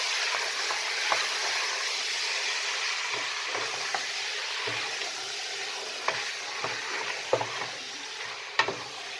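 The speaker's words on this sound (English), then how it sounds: "brown the meat off in the heated oil. Give that a good stir." Meat browns in heated oil with a loud, continuous sizzle, broken by sharp scraping clicks as a spoon stirs it around the pan.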